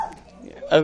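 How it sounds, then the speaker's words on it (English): A single dog's bark or yip sounds briefly in the background, near the end, over a nearby speaking voice. "there's a dog barking in the background"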